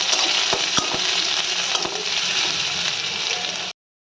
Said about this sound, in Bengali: এই সবটা ভালো করে একটু লাল করবো আমি।